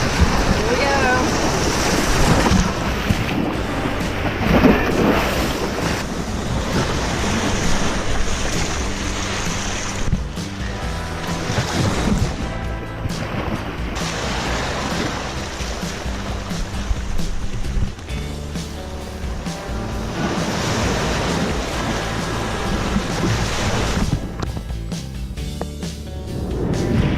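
Ocean waves crash on the rocky shoreline at Blowing Rocks Preserve on Jupiter Island, Florida. The surf roars loud and continuous throughout, with heavy wind buffeting the microphone.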